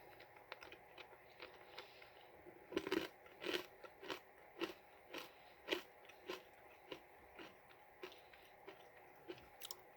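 Someone chews a peanut mochi ball close to the microphone, a series of soft crunches and moist bites in an irregular rhythm, quiet between chews with no talking.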